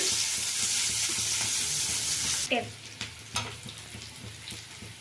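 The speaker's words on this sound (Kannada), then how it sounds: "ಈಗ ಈರುಳ್ಳಿ ಹಾಕ್ತಾ ಇದ್ದೀನಿ ಈರುಳ್ಳಿ ಸ್ವಲ್ಪ ಚೆಂದಾಗಿ ಫ್ರೈ ಆಗಲಿ ಎಣ್ಣೆಯಲ್ಲಿ" Onions frying in oil, a loud close sizzle for the first half that drops away abruptly, followed by softer sizzling and a few scraping stirs of the pan.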